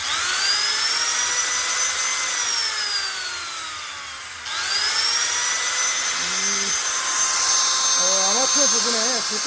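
A used Keyang 4-inch 100B angle grinder runs under test with a loud steady high whine, winds down midway, then spins back up to full speed; a few brief voice-like sounds come near the end.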